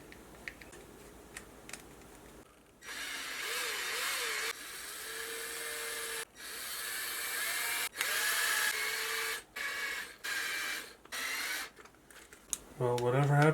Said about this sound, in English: I'm threading right into the PLA.